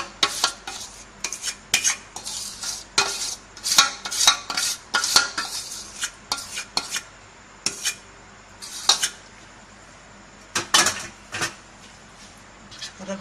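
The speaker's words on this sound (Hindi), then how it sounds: "और अब अच्छे से इसको हम मिक्स कर लेंगे।" Utensil stirring soan papdi mixture in a pan of sugar syrup, with repeated scraping and clinking strokes in an irregular rhythm, fairly close and moderately loud, with brief pauses between bursts.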